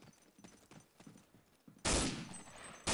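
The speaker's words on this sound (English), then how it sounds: "He gets one shot off." Gunfire in a competitive video game match: faint clicks and shuffles, then a loud shot with a long ringing burst, and another blast starting at the very end.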